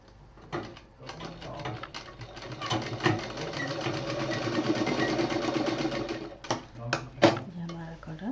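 Sewing machine stitching the corner of a fabric pouch, a steady mid-level mechanical whir with rapid needle pulses that runs continuously for several seconds, bracketed by brief clicks and handling thumps.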